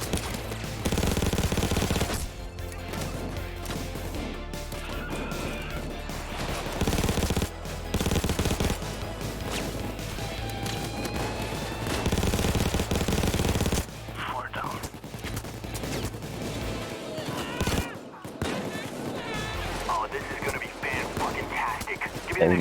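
Sustained automatic gunfire and scattered shots from the PAYDAY 2 heist video game, dense and loud over a long stretch, with in-game music and effects and a player's voice talking over it.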